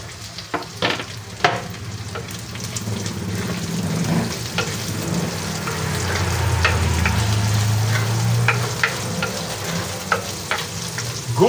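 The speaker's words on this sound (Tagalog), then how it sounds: "At yung po ating chicken balls at yung ating squid balls, unahin po natin para medyo matusta." Chicken balls and squid balls fry in a pan until toasted, a steady sizzle with stirring clatter and scraping throughout.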